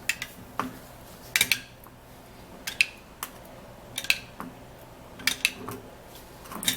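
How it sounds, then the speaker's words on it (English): A spoon stirs a carrot and Vaseline mixture in a bowl, giving sharp, irregular clinks and scrapes against the bowl with quiet pauses between them. "and then I would stir this all up"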